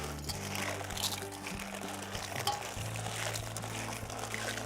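Maize seed is mixed by hand with a liquid fertilizer solution, giving a steady, continuous wet swishing and rustling over a low constant hum, with no talk.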